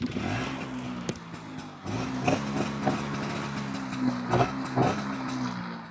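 A Bajaj Chetak scooter engine idles and revs close by after a silencer repair, a steady low putter with a brief lull and then several short throttle blips.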